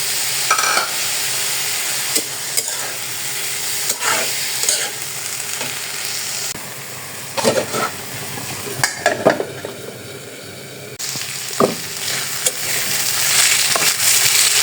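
Potato fry with tomatoes and green chilies is stirred in a hot pan, giving a steady sizzle broken by repeated scraping and clacking strokes of a spatula against the metal, close and fairly loud.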